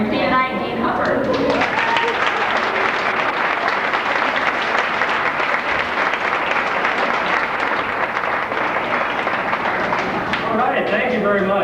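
An audience at the North Webster Mermaid Queen of Lakes pageant gives steady, loud applause to welcome the MC. The dense clapping lasts about ten seconds, with a voice heard speaking at the start and again as it fades.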